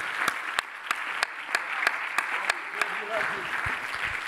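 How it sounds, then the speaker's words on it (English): A church congregation claps along during a worship service, with rhythmic group clapping in steady, evenly spaced accents and a warm crowd wash behind it, fading into looser, scattered claps near the end. "Would you clap your hands to the Lord if you believe him?"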